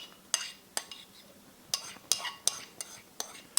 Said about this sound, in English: So now I'm going to add my garlic, because it's only going to cook for a minute or two.